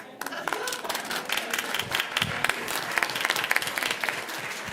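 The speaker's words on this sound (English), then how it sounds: "we will applaud them all" Meeting attendees applaud together at a regular public meeting, a steady wash of clapping from a roomful of people, with some voices underneath.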